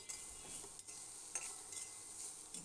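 Small fish, local potato and spices with onion and chili stirred in a pan, soft scraping and light sizzling, faint and close, no voices.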